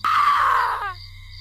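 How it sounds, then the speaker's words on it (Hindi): A witch's long wailing scream from a Hindi horror story, a single loud drawn-out cry that falls slowly in pitch and breaks off abruptly, followed by a brief fading echo. "चुड़ैल चीख उठी।"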